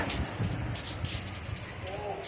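Dense, steady rain from a severe storm in Houston hisses and patters loudly throughout, with no gaps in the downpour.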